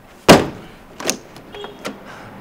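A door bangs shut with one loud, sharp knock up close, followed by two fainter clicks and rattles as it settles.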